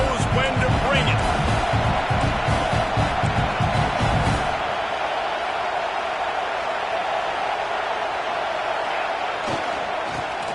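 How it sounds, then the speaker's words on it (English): Stadium crowd in the college football video game CFB 26, a loud sustained roar with rhythmic stomping or clapping that eases into a steadier background din, with speech over it. "This crowd knows when to bring it."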